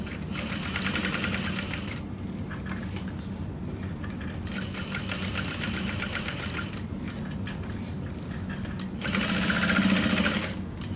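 A sewing machine stitches a pocket onto a handbag at a long stitch length, running in a steady, close mechanical whir with short pauses at the corners and a louder burst near the end.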